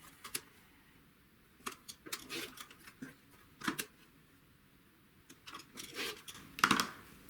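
Stacked quilt fabric strips are cut into half hexagons in a scattered series of short, sharp cutting strokes and clicks, close by with no voices.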